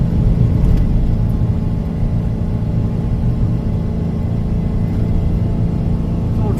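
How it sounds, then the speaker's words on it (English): An old, low-geared town truck climbs a steep grade toward a National Forest landfill near Payson, its engine a loud, steady low rumble close by with no clear gear change and no talking. "This old truck's pretty low geared because it runs around town all the time. You notice it's shifted down there."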